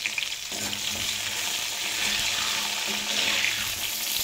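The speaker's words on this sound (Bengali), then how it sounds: "বেগুনগুলো মিডিয়াম ফ্লেমে 2-3 মিনিট মতো ভেজে নিয়েছি" Eggplant pieces lightly salted and frying in oil on a medium flame give a steady, close hiss of sizzling with a faint stir near the start, continuous and even throughout.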